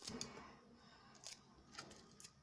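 Adhesive tape is pulled and pressed onto a paper cup, producing faint crinkly rips and short sharp crackles at intervals against a quiet background.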